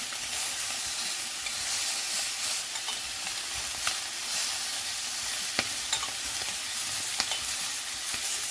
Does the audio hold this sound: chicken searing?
yes